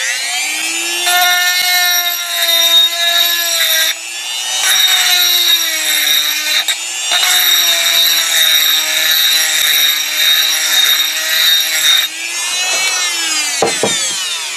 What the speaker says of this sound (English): I'm going to use a rotary tool with a stone